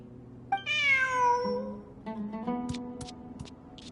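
Cat meowing in the Genshin Impact video game: two distinct, fairly loud meows a second or so apart, the first long and rising, followed by a few light clicking sounds, with no speech.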